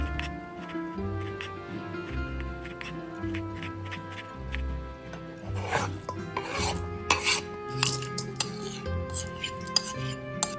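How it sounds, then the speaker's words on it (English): A knife finely slicing tomatoes on a board for a vegan tabouli salad gives quick, repeated close cuts and taps over soft background music, with brief scraping rasps toward the end. "Now finely slice some tomatoes."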